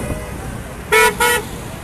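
Two short car horn honks sound close by, one right after the other, over a low rumble of traffic, at a yellow vest protest in Montpellier, France.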